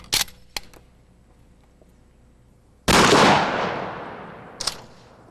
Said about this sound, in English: the mannequin is shot with a rifled slug